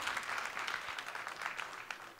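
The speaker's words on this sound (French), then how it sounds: "une grosse main d'applaudissements encore" At a gala the audience applauds a performer, a lively full round of clapping with bright individual claps poking through, staying strong before easing slightly at the end.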